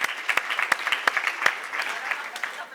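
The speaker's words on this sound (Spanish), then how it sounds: "Y pido otro aplauso para la gente que hizo preguntas y hizo reflexiones" An audience at a round-table talk on the Green Deal and the climate crisis applauds steadily, with dense overlapping claps at an even level throughout.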